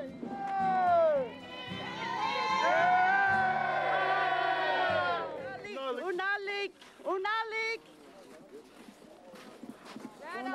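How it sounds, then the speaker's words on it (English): A group of people in Utqiagvik (Barrow), Alaska chant the traditional 'hey, hey, hey' cheer as a whale is hauled onto the ice, a loud, massed shout that gives way to scattered individual calls and voices. "When the whale is on the ice, the traditional cheer of hey, hey, hey echoes across the ice."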